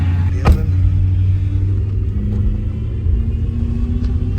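A car on a test drive after a clutch slave cylinder replacement, its engine a steady low rumble with mild revving, heard from inside the cabin, close and continuous with no talking.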